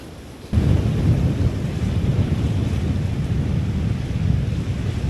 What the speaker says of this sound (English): this river is flowing really fast